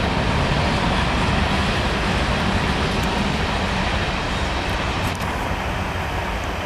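A steady, loud rumble of a passing train fills the whole stretch, continuous and unchanging, with no voices.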